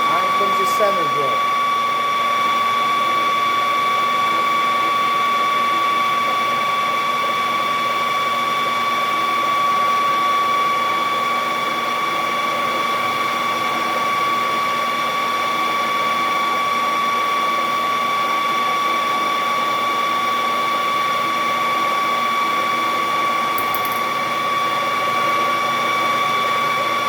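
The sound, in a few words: center drilling a knob blank with a center drill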